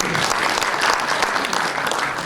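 A breakfast seminar audience gives loud, dense, continuous applause from many hands, with a faint voice mixed into the clapping.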